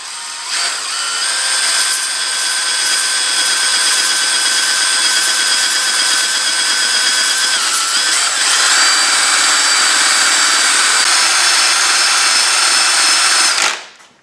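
A power sander with 40-grit paper grinds steadily on a third-generation Camaro bumper fascia, a loud continuous high whine that shifts pitch partway through and then cuts off abruptly at the end.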